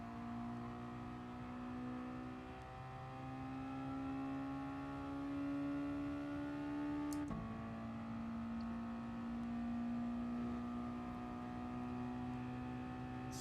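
A race car engine in a racing video game drones steadily at high revs, a constant loud tone with one abrupt gear-shift drop midway, heard alone without talk.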